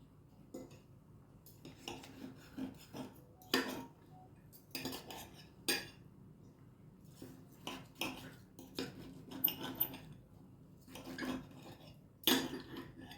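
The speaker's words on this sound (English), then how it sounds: "This is a butter knife I'm cutting it with." A butter knife cuts sous vide chuck steak with a charred crust on a plate, producing repeated close clinks and scrapes of metal on the dish in an irregular rhythm, with no talking.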